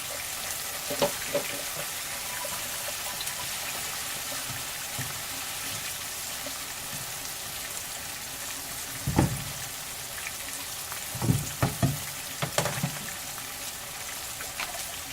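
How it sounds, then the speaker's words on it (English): Frying potatoes crackle in a pan with a steady sizzle, and a few louder bursts and spatters come later as a little water goes in, all heard close without talk. "I'm going to put a little water in there."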